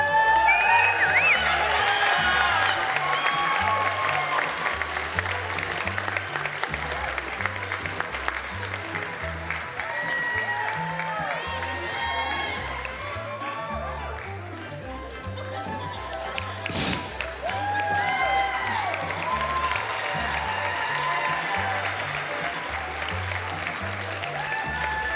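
Audience applause at a university apparel design fashion show, a steady, dense round of clapping that fills the hall for the whole stretch, with faint crowd murmur and a few cheers mixed in.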